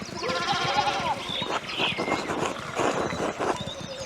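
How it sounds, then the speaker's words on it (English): Sheep in the medieval-village game Pentiment bleat in short, wavering cries over a busy farmyard background, with several overlapping calls and soft footfall-like knocks, moderately close. "One of the fence rails fell and the sheep started hopping it."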